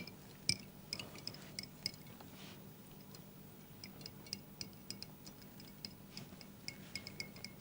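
A spoon stirs a mixture of clear water in a glass, making quiet, rapid, repeated light clinks and ticks against the glass.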